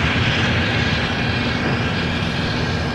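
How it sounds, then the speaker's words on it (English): A Boeing 787 Dreamliner arriving on the south side at Los Angeles International Airport, heard as a loud, close, continuous engine rumble with a low droning hum, steady throughout, with no talk. "Dreamliner up next for arrival here on the south side."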